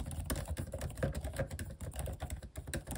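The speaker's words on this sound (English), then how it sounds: "Now these keys feel really nice to type on, and they feel a lot more responsive than the butterfly keys we've had." Keys clatter on the low-profile keyboard of an M1 MacBook Pro 14-inch in rapid, uneven taps, close and fairly quiet, with no voices.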